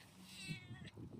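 A chatty cat at a hostel in Grants, New Mexico gives a single drawn-out meow nearby, a faint plaintive cry heard alone over quiet room tone.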